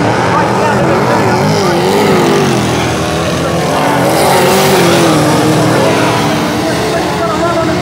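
Super saloon race cars roar around a speedway in a heat, engines droning loud and continuous with rising and falling pitch as they race down the main straight.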